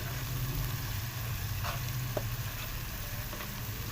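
Tomatoes softening with onions in a pan for aloo matar, a low continuous simmering sizzle with a steady hum beneath and a few faint scrapes, close and even.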